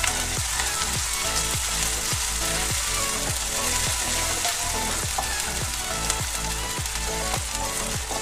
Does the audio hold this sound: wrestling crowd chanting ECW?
no